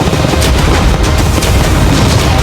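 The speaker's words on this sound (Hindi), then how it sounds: "कैनन्स को फायर करो।" Cannons fire at a yacht in a continuous, loud barrage of booming blasts, with no talk over it.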